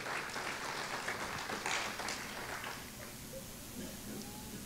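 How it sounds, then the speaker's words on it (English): Church congregation clapping hands during a missions service at an Assembly of God church, a soft, continuous patter of many hands, fairly distant and fading slightly toward the end, with some voices mixed in. "Can you give Jesus a hand clap?"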